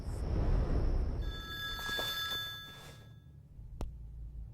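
A telephone rings in a tense Hindi horror drama, an electronic bell-like trill sounding over a low background hum, followed by a short click as the call is picked up.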